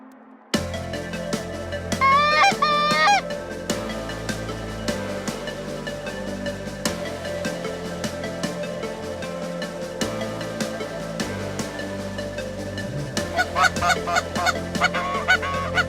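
Wild geese honk overhead during a field hunt near Richmond, Ontario, with loud clustered calls early on and another burst near the end over a steady windy outdoor background.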